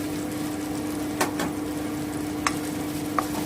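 Peas frying in a pan with grated ginger and chili for paneer bhurji, a steady low sizzle broken by a few sharp scrapes of a spatula stirring.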